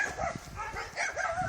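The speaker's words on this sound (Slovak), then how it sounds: "Pes." A dog gives a few short barks and yips outdoors at night, moderately close, with some rustling and faint background noise.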